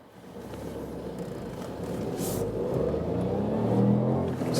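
A Ford Fiesta ST-Line car pulls hard through first and second gear, its engine note building steadily louder from inside the cabin with a short dip around the gear change.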